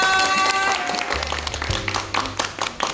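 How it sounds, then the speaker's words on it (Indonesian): A crowd at an usher fellowship gathering claps in response to a call for applause, scattered hand claps rising and thinning out under some background noise and a brief tone near the start. "Kasih tepuk tangan dong"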